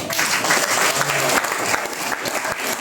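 A Methodist congregation at a harvest festival service in a temple applauds loudly and steadily, a dense wash of many hands clapping at once throughout.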